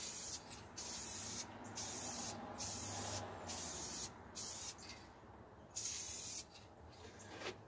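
Aerosol spray paint hissing onto plastic droid parts in light coats, a series of short close bursts with brief gaps between them.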